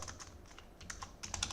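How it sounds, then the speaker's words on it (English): Keys on a computer keyboard clack in uneven bursts while text is typed into a Linux terminal, close and fairly quiet with short pauses between strokes. "I clicked O"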